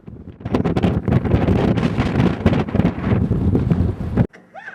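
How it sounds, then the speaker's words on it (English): Strong wind buffets the microphone at Pony Point, a Painted Desert overlook in Arizona. Loud, gusty roaring rumbles continuously for about four seconds, then cuts off abruptly. "You can hear the wind really blowing."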